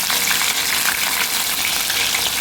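Loté fish pakoras frying in oil, a dense close crackling sizzle that stays steady and loud throughout with no talking.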